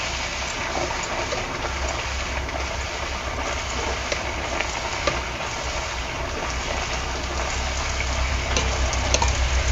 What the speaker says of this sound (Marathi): आणि आपण दुसरे एक तेलामध्ये सोडूया